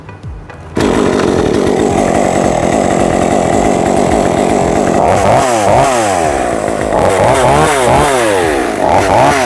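A New West 488Plus chainsaw roars steadily up close, its engine revving up and down in repeated surges after a brief quieter start.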